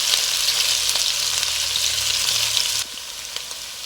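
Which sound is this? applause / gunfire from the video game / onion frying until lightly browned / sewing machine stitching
onion frying until lightly browned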